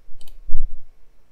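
A couple of sharp computer mouse clicks land in quick succession, close and crisp, followed by a faint low thump, with nothing else around them.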